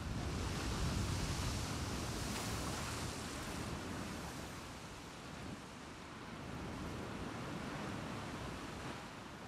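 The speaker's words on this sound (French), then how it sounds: "le bruit du vent et des vagues" Steady wind and rolling waves in the video game The Last of Us Part 2, a broad continuous wash of surf that swells and eases slightly, with no voices over it.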